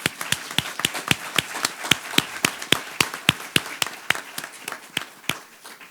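Audience at a women's history celebration claps in a sharp, regular rhythm, each crisp clap distinct and close, roughly three per second.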